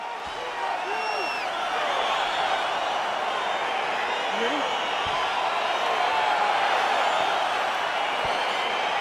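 In a UFC fight simulation video game, a crowd roars in a sustained wash of cheering and whoops as the bout gets underway, with steady arena noise throughout.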